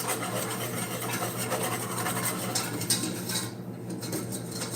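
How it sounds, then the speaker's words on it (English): A whisk working flour thickener into a pot of enchilada sauce, a continuous close rubbing, scraping rasp against the pan that runs steadily throughout. "And I'm just going to whisk it in here."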